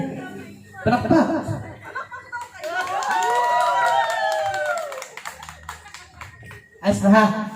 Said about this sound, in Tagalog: Palakpak kayo eh. Palakpak.